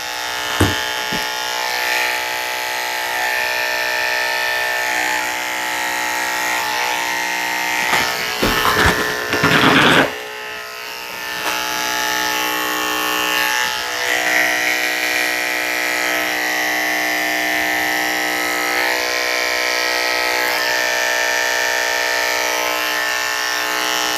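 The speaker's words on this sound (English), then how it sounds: "shaving her with a 10 takes a very long time just because I can't scrape her skin with the blade." Electric clippers with a size 10 blade buzz steadily and close up while shaving down a cockapoo dog, holding a constant hum for the whole stretch, with a brief patch of rustling and handling noise partway through and no talking.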